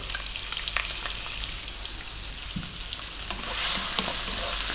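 Diced onion and potato frying in oil over above-medium heat for aloo keema give a steady, close crackling sizzle with faint stirring scrapes, continuous throughout with no talking.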